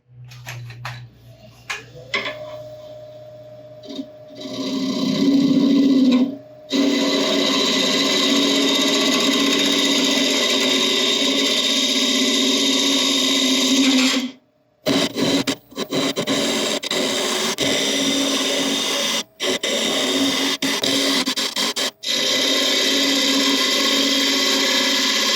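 A carbide tool cuts into a spinning black locust burl bowl on a wood lathe, giving a loud, sustained grinding whir with brief dropouts where the tool lifts off the wood.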